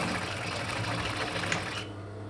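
A sewing machine stitches a dart into a corset cup, whirring steadily and close for a couple of seconds before stopping abruptly, with no speech.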